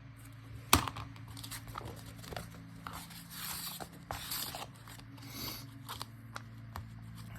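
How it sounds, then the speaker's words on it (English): Straight scissors trimming paper for a handmade envelope, a series of close, crisp snips and paper rustles spaced irregularly over a quiet low hum. "Trim with my straight scissors."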